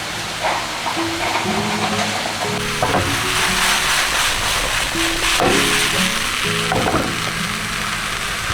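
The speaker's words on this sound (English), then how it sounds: "I've started a saute. I'm adding some garlic now." Garlic sautéing in a pan with cumin, salt and pepper gives a loud, steady close-up sizzle with occasional stirring scrapes, and soft background music plays underneath.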